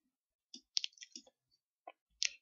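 A computer mouse clicks a few times while working in Visual Studio 2019, with sharp, close, isolated ticks spread across a couple of seconds, including a quick pair, and no talking.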